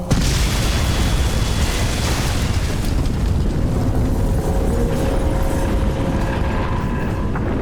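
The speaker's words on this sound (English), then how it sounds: "Explosion imminent." An explosion in the video game Crysis 2 Remastered roars loud and sustained, a dense rumbling blast with a long churning tail and a faint tonal hum underneath.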